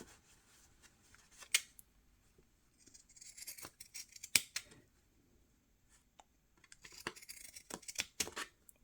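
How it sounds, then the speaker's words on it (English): Pinking shears cutting fabric for a needlebook, a sequence of crisp snipping crunches in irregular bursts, close and clear in a quiet room. "And I use my pinking shears to do that."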